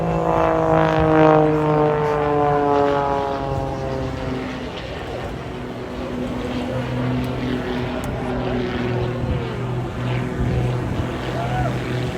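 A propeller aerobatic aeroplane at the Blackpool Airshow drones overhead, its engine tone sliding downward as it passes, then fades into a distant steady hum.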